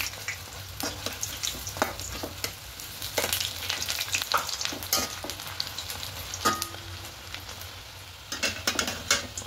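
Sago fritters crisping in hot oil sizzle steadily up close, broken by frequent sharp clinks and scrapes of a utensil stirring and turning them in the pan.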